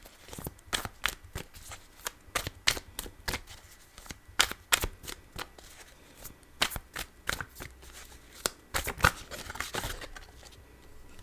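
A deck of tarot cards being shuffled by hand gives a run of quick, crisp riffling snaps and flutters at an uneven pace, close and fairly clear, with no talk.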